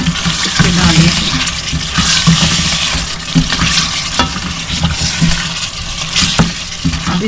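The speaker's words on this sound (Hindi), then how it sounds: "अब ये इसमें कुछ इसकी भुनाई होगी मसाले की" Masala for Kashmir chicken fries and is stirred in a pan, a loud sizzle broken by repeated scraping strokes of the spoon at an uneven rhythm.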